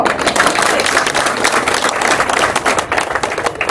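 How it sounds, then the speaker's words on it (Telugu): A crowd at a retirement celebration for a government general hospital employee in Kurnool, Andhra Pradesh, claps loudly and steadily, with dense hand claps filling the room throughout. "అప్పుడు కుర్చీలో వచ్చి కూర్చుండగా గట్టికి చప్పట్లు పడతా."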